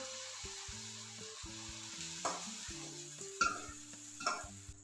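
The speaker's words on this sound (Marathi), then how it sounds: "आमलेट करण्यासाठी गॅसवर तवा ठेवला आहे थोडंसं तेल घालू आता आमलेट करून घेऊया" An egg omelette sizzles steadily in oil on a griddle over a gas flame, a soft continuous frying hiss with faint background hum and no talk.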